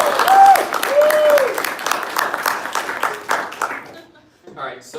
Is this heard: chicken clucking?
no